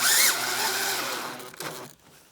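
A power drill drives a screw into a rack, whirring loudly for about a second and a half, then slowing and stopping with a short final burst.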